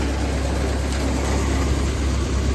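A 1949 McCormick W-6 tractor engine runs steadily at a constant low throb, loud and close, with no voices over it.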